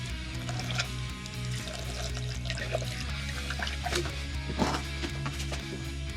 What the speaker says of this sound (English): I gotta stick this funnel in here and add a bunch of distilled water as this thing is water cooled